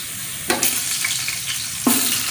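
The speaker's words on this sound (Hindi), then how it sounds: "फ्राई करेंगे चिकन" Chicken pieces fry among browned onions in a hot pan, giving a continuous loud sizzle punctuated by two sharp stirring or tossing bursts.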